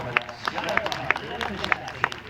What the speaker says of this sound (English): let's give her a big round of applause as she heads out today